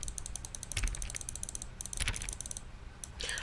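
Rapid mouse clicks in The Stanley Parable, sharp close taps in uneven bursts with short gaps, over a steady low background hum.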